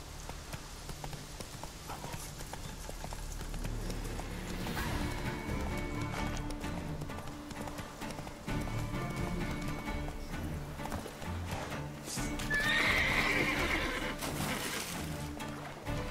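A horse gallops in The Witcher 3 with steady hoofbeats over a low musical drone, a whinny rising near the end, with a louder crash-like burst partway through.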